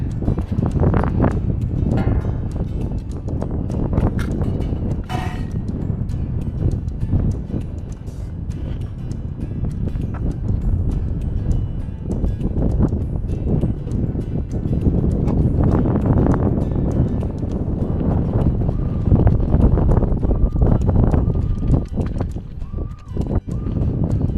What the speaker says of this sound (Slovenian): vrh kar precej piha